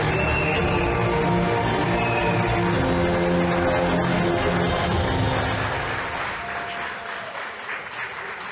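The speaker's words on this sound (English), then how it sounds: "Let's give him a huge round of applause." An audience gives a big round of applause welcoming a former US National Security Adviser at a resistance gathering, dense sustained clapping at full volume that gradually thins and softens toward the end.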